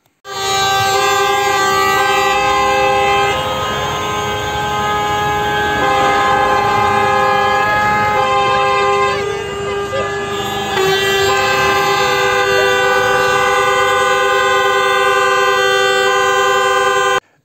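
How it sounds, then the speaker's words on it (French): A train horn blares loud and close in Algeria, holding one steady harmonic chord almost without pause for around seventeen seconds, with only slight dips in strength and no voices. "20 minutes de klaxon dans les oreilles."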